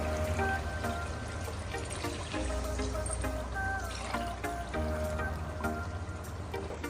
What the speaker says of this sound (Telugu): ఈ గ్లాస్తోనే వాటర్ కూడా వేస్తాను.